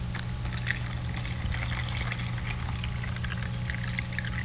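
Liquid poured into a triangular container in a science demonstration, a steady continuous splashing pour running close and fairly loud for the whole stretch with no talk over it.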